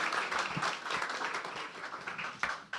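Church congregation clapping, scattered and fairly faint, with uneven individual claps and a few sharper hits near the end, over quiet room sound.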